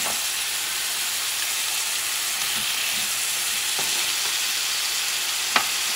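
Bison stew with potatoes and pumpkin braising in a cast iron pot, a continuous loud sizzle and bubbling hiss close up, with a few faint scrapes of stirring and one sharp clink near the end; no voices.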